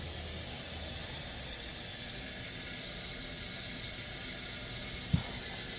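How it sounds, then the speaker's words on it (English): Water runs down a laundry drain as a continuous rushing hiss, close and steady throughout, with a single brief knock near the end and no talking. "draining good now."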